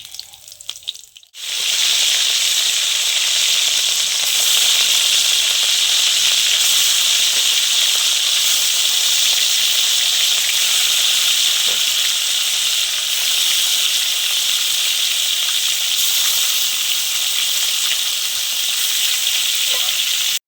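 Local fish frying in hot oil gives a loud, steady, close sizzle that hisses on without a break after a brief quiet start.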